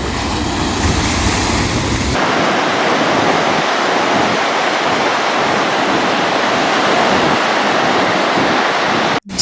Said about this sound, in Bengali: এখন প্রচণ্ড ঢেউ চলছে।